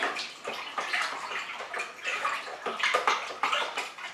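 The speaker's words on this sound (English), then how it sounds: "we just now give it a good stir in and make sure all our sugar water and our cold water" Sugar water and cold water being stirred together in a fermenting vessel for a spirit-for-shots kit, giving a steady sloshing, swirling splash in repeated waves, close and fairly loud, with no talking.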